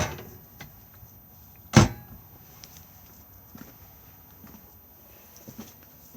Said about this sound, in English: more storage and the cutlery drawer just here